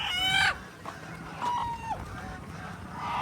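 A native chicken on a farm field squawks in a sharp, loud burst, then gives a few softer clucks and a drawn cry, fairly close and otherwise alone.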